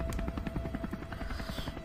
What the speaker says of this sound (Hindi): बहुत सारे हेलीकॉप्टर्स नाइस